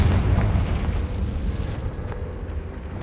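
A Confringo spell explosion in Hogwarts Legacy, a loud booming blast followed by a long rumbling roar that slowly thins out over a few seconds.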